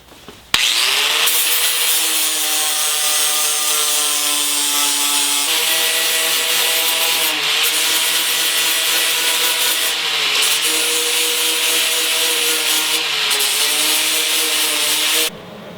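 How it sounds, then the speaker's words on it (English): An angle grinder stripping paint from a Jeep hood panel, one long continuous loud whine with steady harmonics and a few brief dips in pitch, close up. "Okay, I've ground it all down."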